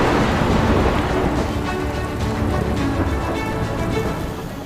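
Heavy monsoon rain pours down steadily in Saurashtra, Gujarat, with deep thunder rumbling underneath; the downpour is loud and close throughout, with no voices.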